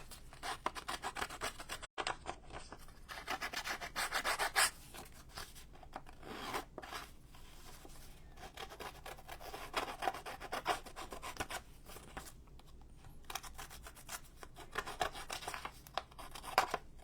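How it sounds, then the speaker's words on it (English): A small edge distressor tool scrapes along the edge of a page in a Halloween junk journal, giving a steady close scratchy rubbing with repeated strokes and brief pauses, no voices. "Where's my little rougher thingy? This little edge distressor thingy."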